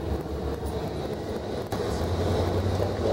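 A fixed-wing airplane drones past near a beach in San Juan, a steady broad engine roar that holds moderately loud through the moment, with no voices over it.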